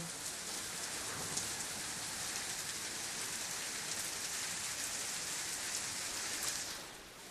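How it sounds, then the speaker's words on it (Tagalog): Dense, steady pattering of hail striking a surface, continuous and fairly loud, easing off slightly near the end. "Umuulan ng yelo."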